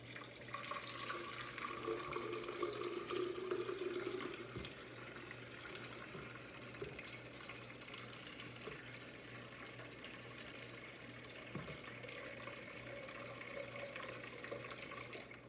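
A kitchen tap runs as water is drawn for homemade cold brew iced coffee, a faint, steady stream with a brief fuller filling sound near the start and a few small knocks, with no voices.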